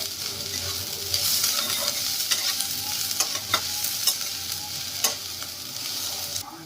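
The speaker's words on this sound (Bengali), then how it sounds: "পেঁয়াজটাকে দিয়ে একটু সময় ধরে ভেজে নিতে হবে।" Onions sizzle and fry in hot oil for a mustard-paste green bean curry, a steady close hiss broken by scraping stirs, with no talking.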